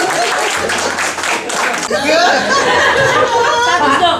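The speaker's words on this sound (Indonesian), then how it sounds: "Tepuk tangan buat Bapak." A group at a training course claps for a participant, with steady hand clapping mixed with chuckles and laughter. Several people talk over the applause.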